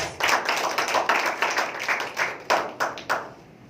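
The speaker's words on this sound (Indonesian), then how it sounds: "Berikan aplaus untuk Yesus" A church congregation applauds during a sermon, giving a burst of steady, fairly loud clapping that ends in several distinct separate claps.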